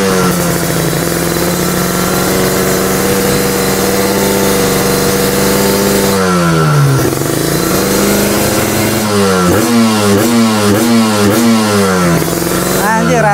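Two-stroke Kawasaki Ninja fitted with an NXL exhaust, idling steadily with a ringing, crackly tone, then blipped through a series of sharp revs that rise and fall rhythmically, loud and close, with a voice talking over it.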